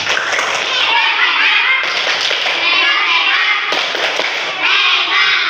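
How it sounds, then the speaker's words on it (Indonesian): A class of children does the 'tepuk hebat' chant together, patterned group claps and thuds mixed with young voices chanting, loud and close, in repeating bursts. "Kita tepuk hebat dulu kalau sudah menjawab dengan benar."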